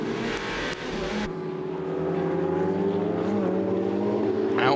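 Ferrari Challenge race car heard onboard at Valencia, its engine note loud and steady with rising pitch as it accelerates, preceded by a brief burst of louder engine and wind noise.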